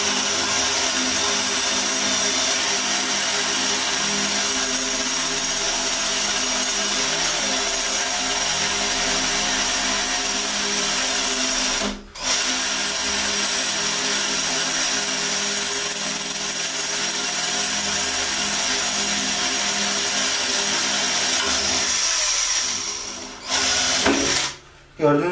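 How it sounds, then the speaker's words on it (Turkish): A power drill with a thick bit boring a hole grinds steadily and loudly under strain for a long stretch, with a brief stop midway and a few stuttering cutoffs near the end. "Gördüğünüz gibi delik olmasına rağmen büyük matkap ucu bayağı zorlandı."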